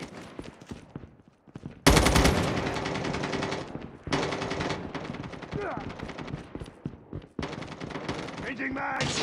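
Automatic gunfire from Call of Duty Mobile rattles in dense, loud bursts separated by short pauses, sharp rapid shots layered over game sound, with voices calling out in between.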